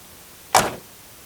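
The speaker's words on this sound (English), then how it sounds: "Opening up the door there, you can see the interior lights illuminate." A single short clunk of the door on a 1969 Chevrolet Camaro SS being opened, a brief close latch sound in an otherwise quiet setting.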